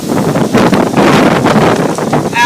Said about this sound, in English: Wind's blowing harder.